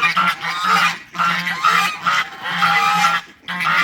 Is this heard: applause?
no